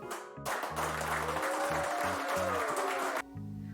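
Applause sound effect of a crowd clapping steadily for a few seconds, dense and fairly even, with a low musical backing underneath and an abrupt cut near the end.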